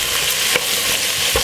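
Cabbage frying in a pot for Jamaican stir fry, a steady close sizzle with a couple of brief scraping stirs cutting through it.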